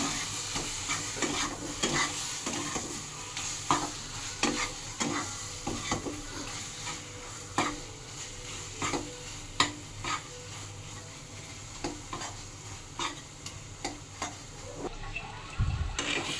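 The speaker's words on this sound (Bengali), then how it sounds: "তারপরে ভালো করে নাড়িয়ে" Ilish fish head with kochu shak (taro greens) is stirred in a hot pan, giving a continuous sizzle under repeated scraping and tapping of the spatula against the pan, close and fairly quiet, without talk.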